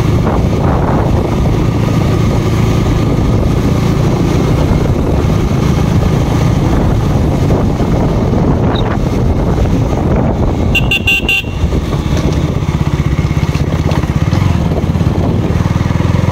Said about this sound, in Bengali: প্রচণ্ড পরিমাণে হাওয়া হচ্ছে মেঘলা ওয়েদারের জন্য